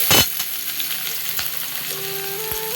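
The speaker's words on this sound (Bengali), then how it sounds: "তেলে এবার আমি যে পেঁয়াজটা কুচিয়ে রেখেছিলাম সেই পেঁয়াজটা দিয়ে দিলাম।" Chopped onion goes into hot oil for a cottage-cheese crisp fry. A sharp hiss flares at the drop, then settles into a steady, close sizzle with a few faint scrapes of stirring.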